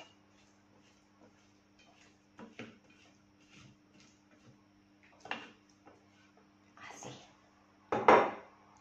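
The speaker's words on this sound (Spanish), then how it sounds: "con la espátula bajemos los ingredientes hasta el fondo del vaso" A spatula scrapes ingredients down the inside of a Thermomix bowl, making quiet, scattered taps and scrapes that get louder toward the end, with an appliance hum underneath.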